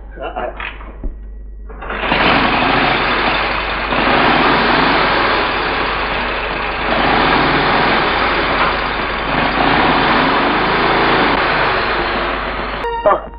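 A vehicle engine runs loudly and steadily for about eleven seconds in an old Tamil comedy film scene, a continuous rumbling drone that starts abruptly after a brief opening with other sound.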